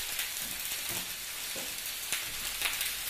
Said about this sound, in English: So just going to pop them into the frying pan here.